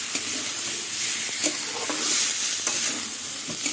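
Spiced masala sizzles in oil for a duck egg and potato curry, a dense continuous frying hiss punctuated by quick scraping stir strokes, close and alone without speech.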